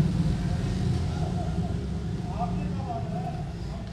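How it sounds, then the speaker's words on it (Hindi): Steady traffic noise drifts in from outside a house, a continuous low rumble of passing vehicles, with a voice talking over it. "बाहर बड़ा है ट्रैफिक का शोर है"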